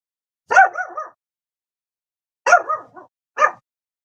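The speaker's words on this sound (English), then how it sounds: "my dogs are barking" Dogs in a home bark in short bursts: a loud double bark, a pause of over a second, then another pair and one final sharp bark, with silence between.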